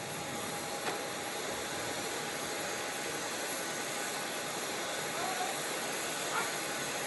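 A parked aircraft's engine runs after landing, carrying a steady, loud whining roar with a constant high tone throughout.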